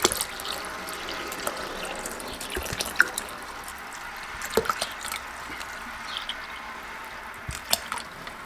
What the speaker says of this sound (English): Pouring distilled water into it, hydrating it.